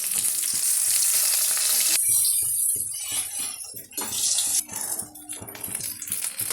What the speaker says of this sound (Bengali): গোটা ইলিশ মাছটা আগে ভেজে নিচ্ছি।